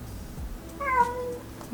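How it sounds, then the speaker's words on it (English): A single short cat meow rises at mid-clip against a quiet room background, close and clear with no talking. "Meow."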